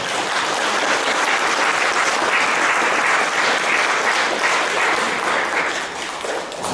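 Warm, sustained applause from a concert audience at a club in Kraków's main square, dense and even clapping filling the room at a steady level throughout.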